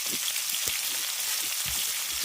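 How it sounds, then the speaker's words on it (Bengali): Hog plums (amra) cut into pieces and salted, frying in hot oil: a steady broadband sizzle and crackle continues throughout, with a few soft low bumps from the pan and no talking. "লবণটা দিয়ে আমরাটাকে হালকা করে আগে তেলের মধ্যে একটু ভেজে নেব"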